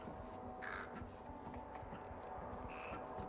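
Crow caws from the video game Thief, two harsh calls spaced apart over a steady background of game ambience and soft footstep-like clatter.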